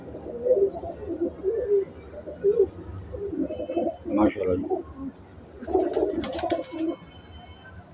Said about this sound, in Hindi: ये वैशी कबूतर है हमारे।